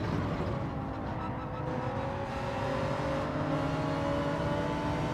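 An Audi race car in Gran Turismo 7 drones and accelerates steadily, its engine note climbing through rising whine and revving gears, loud and continuous with no talk.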